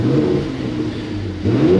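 A Mercedes-AMG C43 engine revs with a deep, throaty exhaust note through an open sport exhaust, rising and falling in pitch, loud and close with no talking.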